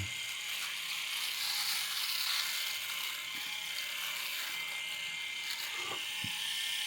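Electric shaver buzzing as it cuts facial hair, a steady high-pitched whir held close and fairly quiet, with a few faint knocks near the end.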